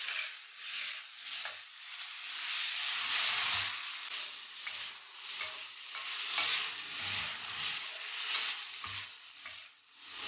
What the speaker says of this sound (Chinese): 油热后把猪粒放进去，把它炒一下。